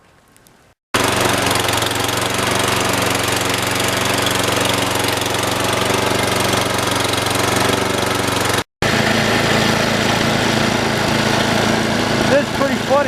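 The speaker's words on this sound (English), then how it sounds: "The snowplow is stuck in front of our house." A snowplow stuck out on the street in front of a house at night, its engine running steadily and loudly with a low droning rumble that cuts out briefly partway through before resuming.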